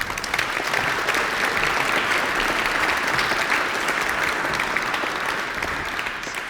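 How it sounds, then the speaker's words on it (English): A concert audience claps steadily and loudly throughout, a dense, sustained round of applause with no voices rising above it. "Please give him a round of applause."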